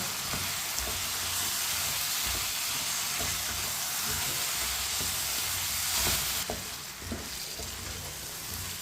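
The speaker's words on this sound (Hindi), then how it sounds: "दो मिनट के लिए आलूओं को मैंने भून लिया।" Potato pieces sizzle and fry in a pan with a steady crackling hiss, close up, with occasional stirring clatters and a brief dip before the frying noise swells again; no one speaks.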